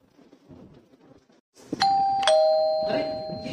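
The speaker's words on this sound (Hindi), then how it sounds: "घंटी कोई आया होगा गेट पे" A doorbell at a home gate chimes twice, two clear ringing tones with a lingering decay, following quiet murmuring voices in the background.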